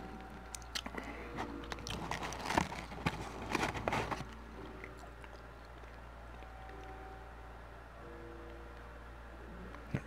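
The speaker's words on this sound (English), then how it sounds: "take a bite of this Big Mac" Someone bites and chews a McDonald's Big Mac up close, with a few crunchy, wet bites and chewing sounds clustered early, then quieter faint chewing over a low background hum.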